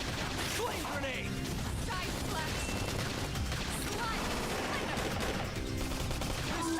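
A flame grenade explodes in the video game Xenoblade Chronicles X amid a dense, crackling burst of rapid combat impacts and gunfire-like pops, loud and continuous with layered game sound effects.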